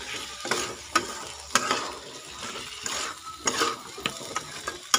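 Capcay vegetables, broccoli and carrots, stir-fry in a pan as a little water is added, giving a steady sizzle with repeated scraping clinks of a spatula against the pan.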